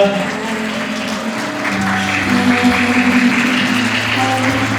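Wedding guests at a Seoul Garden Hotel ceremony clap and cheer for the bride, a steady wash of applause with sustained tones beneath it, holding loud for about five seconds.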